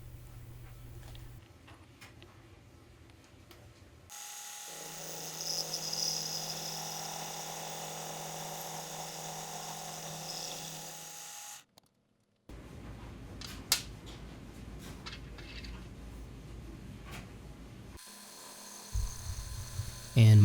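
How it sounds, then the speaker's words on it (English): A bicycle brake boss held in a fixture is mitered for a longtail frame's chainstay. The cutting machine drones as a steady humming whine in two long stretches with a short stop between, close by and without talk. "I rotated the boss inside the fixture because I need to miter it at an angle that matches the angle on my chainstays"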